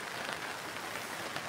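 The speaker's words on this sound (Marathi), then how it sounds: "आणि 1 वाजेपासून फुल असा पाऊस पडलेला आहे" Heavy torrential rain falling on a village, an even, dense hiss of drops striking surfaces with no pauses, steady and fairly close throughout.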